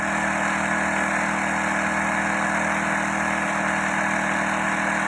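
A lawn mower engine converted into a water pump drones steadily at close range, a constant idling hum with a rough, buzzing vibration that holds unchanged throughout, with no voices.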